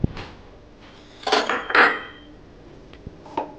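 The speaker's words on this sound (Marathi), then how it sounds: "कढई गरम झालेली आहे, त्याच्यात आपण 1 वाटी रवा हा टाकून घेऊया" A cup of semolina is tipped into a hot kadhai for roasting, making a brief cluster of scraping, clattering metal sounds close by, with a few lighter taps afterward.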